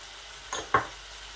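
Spices tossed into hot oil in a mutton karahi, with two short, close stirring scrapes and sizzles in quick succession over a quiet kitchen background.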